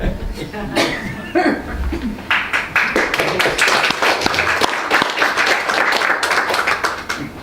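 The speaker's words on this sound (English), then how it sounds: "round of applause" Small open mic night audience gives applause, with scattered claps and taps, chuckles and a cough mixed with people talking, the clapping rising to a steadier patter in the second half.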